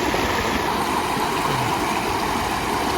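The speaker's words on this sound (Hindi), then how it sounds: "ये पानी बग रहा है बड़ी स्पीड से और ये साफ़ है।" Clear, fast-flowing stream water rushes in a steady, close, full-bodied wash with no pauses and no voices.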